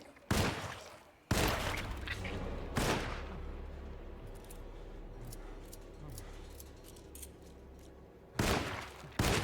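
Gunfire in the video game Alone in the Dark: a handful of loud, sharp shots spaced irregularly, two close together early and a pair near the end, with a low rumbling game ambience between them.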